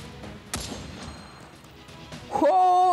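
A single sharp gunshot cracks in the mobile shooter game Cover Fire, followed by quieter game sounds and an electronic tone rising at the end.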